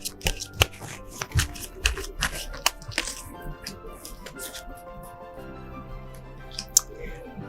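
Tarot cards drawn from a deck make a series of crisp, close card snaps and soft shuffling rustles, irregularly spaced over several seconds, fairly quiet against a still background.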